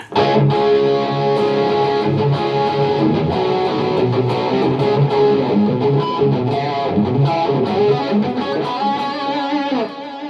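A Fender Deluxe Stratocaster HSS through a Mooer GE-200 multi-effects pedal plays a fast, continuous solo with a processed, effected tone, many quick notes running without pause for about ten seconds.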